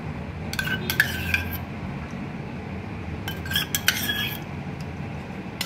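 A spoon stirs thick set yogurt (curd) in a bowl while making cardamom shrikhand, giving light metallic clinks and scrapes in two short bursts over a steady background hum.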